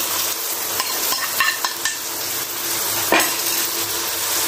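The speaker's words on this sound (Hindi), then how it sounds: "तो मसाले को अच्छी तरीके से भूना कि टमाटर ताकि मैश हो जाए बिल्कुल" Ground spices and chopped tomatoes frying in a pan for a spiced mutton brain dish, a steady close sizzle with a few scraping stirs and light clinks of a utensil against the pan.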